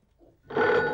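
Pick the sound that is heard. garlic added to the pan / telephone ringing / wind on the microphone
telephone ringing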